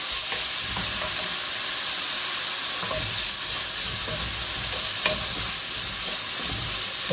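Low-carb keto carbonara, made with meat, fries in a pan with a dense continuous sizzle and a steady scraping as it is stirred close by.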